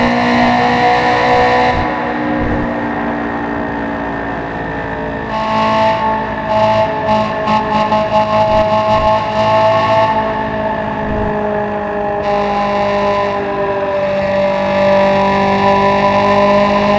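Honda S2000 in the Assetto Corsa racing game cruising a Japanese highway, its engine a loud, steady drone with rising and falling revs and brief shifts, heard alone with no talk.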